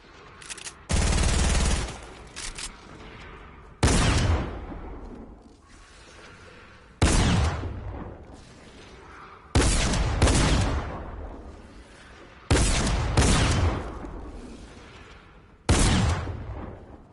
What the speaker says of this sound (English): We can activate skeet, which means we're skeet shooting instead.